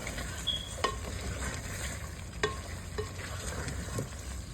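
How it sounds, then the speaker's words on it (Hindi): Potato pieces frying in chicken masala for aloo salan, a soft, steady sizzle with a few light clinks of a spoon against the pan, close but quiet, with no voices. "तो आलू डाल के इसको मैं थोड़ा और भूनूंगी"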